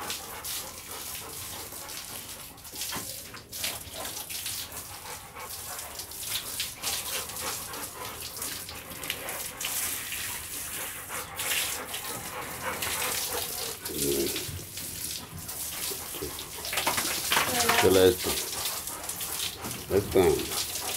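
Rottweiler being bathed with running water from a hose or tap, a steady hiss and splashing throughout, with a few dog sounds and people talking over it.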